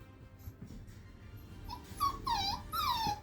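A puppy exploring a kennel gives soft, high whimpers and small yips, close by and fairly quiet, growing more insistent toward the end over faint background noise.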